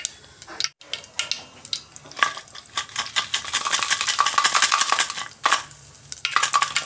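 Curry leaves and asafoetida hit hot oil in a pan, crackling and sputtering in rapid bursts that swell louder midway, with scraping and stirring clatter of a utensil against the pan.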